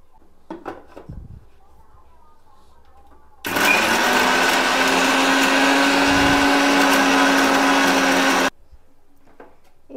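Mixer grinding avocado, garlic, pepper and salt into a cream, a loud steady motor whir running for about five seconds, with quieter kitchen clatter before and after it.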